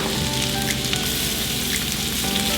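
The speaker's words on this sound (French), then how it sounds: "Mettez d'abord la patate que vous avez coupée en plusieurs morceaux, petits morceaux." Small cut potato pieces fry in a pan before becoming a potato omelette. A dense, steady sizzle crackles loudly and close throughout, with no talk.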